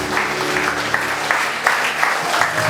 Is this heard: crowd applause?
yes